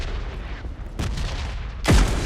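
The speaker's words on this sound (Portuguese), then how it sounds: "o cara tá atirando em mim" Gunfire in PUBG, a shooter game: a couple of sharp distant shots followed by a loud nearby blast with a falling whoosh, over a constant low rumble of game ambience.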